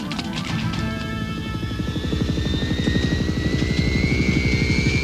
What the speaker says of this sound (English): Keep Venom's chopper corralled so we don't lose the throne